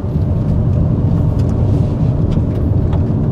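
A Mitsubishi XFORCE rolls over bumpy, undulating asphalt on a test circuit at up to 60 km/h, giving a steady loud cabin rumble with low thuds and road noise throughout.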